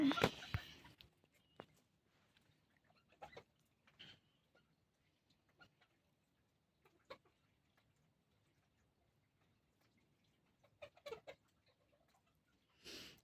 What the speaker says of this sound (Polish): Oglądacie teraz moje kury.